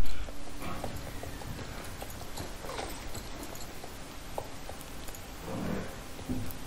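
Hooves clip-clop steadily as a horse is ridden in the horse-riding video game Star Stable, an even rhythm of soft hoof beats over a constant background bed with no talk.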